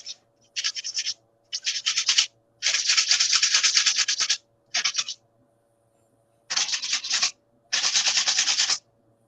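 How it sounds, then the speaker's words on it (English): Hand sanding: several bursts of dry, rasping scrubbing on a surface, each lasting one to two seconds, separated by short pauses, close and fairly loud. "I'm just lightly sanding this."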